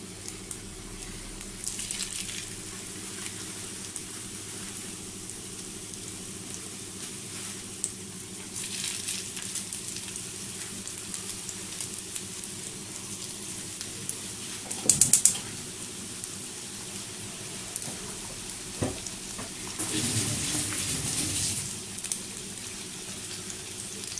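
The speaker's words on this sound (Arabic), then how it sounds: "هنا الزيت حطيتها سخنات، انا غادي نحط الكفته ونعاود نشعلها" Kofta meatballs frying in hot oil give off a low, steady sizzle with a few louder bursts of crackle, close by, with no talking.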